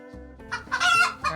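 A chicken cluck sound effect played during a livestream: a short run of rooster-like clucks and squawks, rising to a loud, bright burst near the end.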